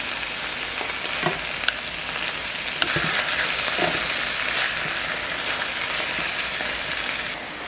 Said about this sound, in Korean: 잘게 썰어 놓은 양파와 토마토를 넣어 잘 섞어주시고요.